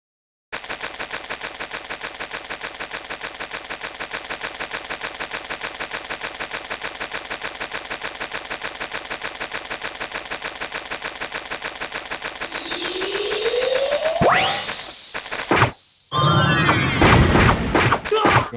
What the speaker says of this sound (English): All those missiles.